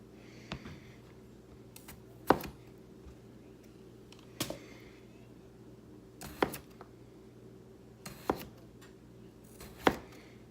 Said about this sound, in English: you wanna slice them pretty thin so they cook pretty quickly